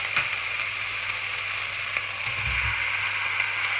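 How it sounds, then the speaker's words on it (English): Rabbit pieces sizzle in a pan with garlic, a soft continuous hiss close by with a brief low clunk partway through and no talking. "Then we're going to add our rabbit back to the pan."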